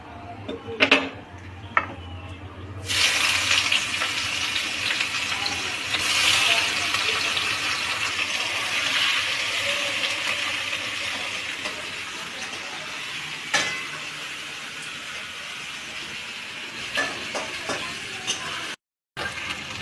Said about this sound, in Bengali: ফোড়নটা হয়ে গেছে, এবার আমি পেঁয়াজ কুচিটা দিয়ে দেবো।